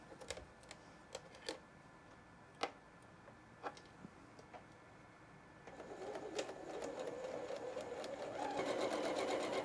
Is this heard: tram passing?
no